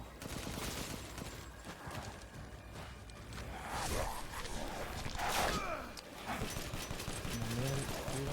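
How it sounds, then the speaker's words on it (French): Gunfire crackles in Resident Evil Village, with rapid bursts and scattered shots mixed with whooshes and footsteps, all at low level under ongoing game sounds. "Ça marche les tirs."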